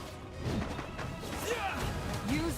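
A Terra Smash attack lands in Genshin Impact with a crashing, thudding impact and swishing whooshes, loud bursts over ongoing game effects with some voice underneath.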